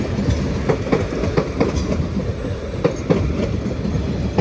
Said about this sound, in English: Arriving in now is the 1410, I think, Greater Anglia service to London Liverpool Street from Norwich, worked by 745-005.